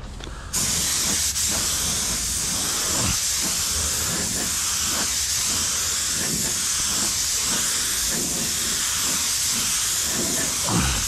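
Spray gun applying a third coat to Ford headlights, a loud, continuous hiss that starts abruptly and holds steady to the end, close to the microphone with no talking.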